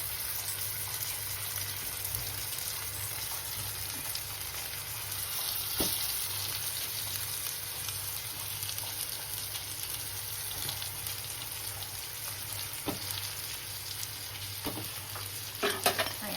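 Brinjal pieces sizzle and fry in a hot pan on a gas stove for a home-style vegetable dish, a steady close hiss with occasional stirring scrapes and clinks throughout, no talking.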